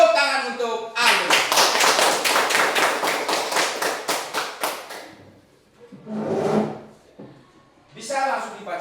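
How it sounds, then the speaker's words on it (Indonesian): Classroom of students gives a classmate a round of rhythmic, fairly loud hand clapping lasting several seconds, followed by a quieter lull, a brief burst of noise and a teacher speaking. "Oke, tepuk tangan untuk Ayu."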